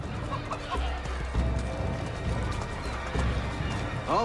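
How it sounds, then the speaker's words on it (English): Horses clip-clop and whinny while chickens cluck amid a busy crowd in a city street in Assassin's Creed 3, a steady ambient bustle. "Chickens, animals as part of the crowd in the city is also a new feature."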